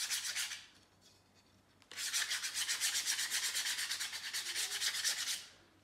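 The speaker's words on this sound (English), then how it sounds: "when you're sanding these rainbows is to take the edge off" Sandpaper rubbed back and forth at an angle along the edge of a wooden rainbow, a close, steady rhythmic rasp with a short pause before a longer continuous sanding run.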